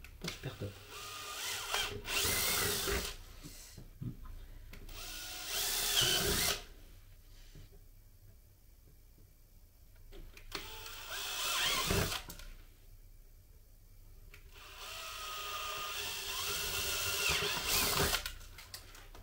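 Power drill boring holes in wood for fixing a roof reinforcement, several loud whirring bursts separated by quieter pauses, close by with some talk in between.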